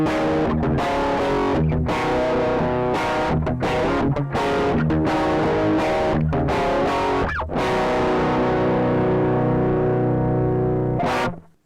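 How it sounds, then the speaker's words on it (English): An electric guitar runs through a Sonicake Shark overdrive/distortion pedal, strumming loud, saturated chords in choppy bursts separated by brief gaps, then a final chord rings out and is cut off. "the first pedal I demoed there was the Shark overdrive / distortion"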